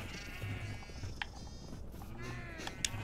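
Sheep bleating in the Minecraft video game: a few short, faint bleats rise over a steady low background hum, with no one speaking.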